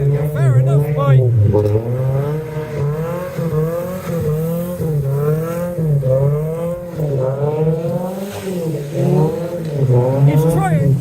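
A Honda Civic EP2 accelerates past at a car meet. Its engine revs loudly and rises and falls through the gears over several seconds, with people talking nearby.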